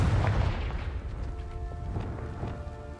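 Confringo fire spell blast in the video game Hogwarts Legacy, a deep rumbling boom that opens loud and then fades into a sustained low roar with a faint crackling tail.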